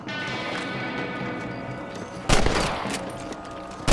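Rifle shots aimed at rabbits in the Red Dead Redemption video game: a sharp, loud report near the middle, then another at the very end, over steady ambient game noise and hoofbeat-like clatter.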